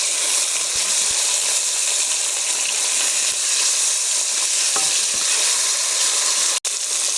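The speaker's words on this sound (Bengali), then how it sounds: "মাছ এখন উল্টিয়ে দেবো। ইলিশ মাছ বেশি ভাজতে হয় না, হালকা ভেজে নিতে হয়।" Hilsa fish pieces frying in hot oil, with a steady bright sizzle throughout and a few soft clicks and knocks as the fish is flipped, one sharp tap near the end.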